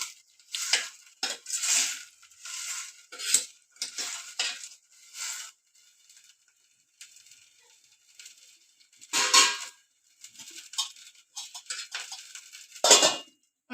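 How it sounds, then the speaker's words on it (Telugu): Wild mushroom curry being stirred in a cooking pot, with repeated close scraping and clinking of a utensil against the pot in short irregular bursts and brief pauses, and a faint sizzle underneath. "మంచిగా కదుపుతూ బాగా మగ్గనియాలి పుట్టగోకల్ని"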